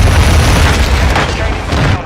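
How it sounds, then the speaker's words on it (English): A grenade explodes in Call of Duty MWII, a loud, heavy boom with deep low rumble spread across the moment and decaying slowly, while a voice talks over it. "grenade!"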